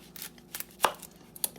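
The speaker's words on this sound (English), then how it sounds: "I'm also going to get on to chopping some onions." A few knife strokes on a cutting board while chopping onions, with one sharp chop standing out among softer cuts.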